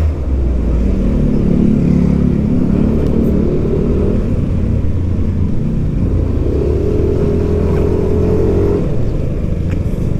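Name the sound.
Yamaha Aerox 155 scooter engine while riding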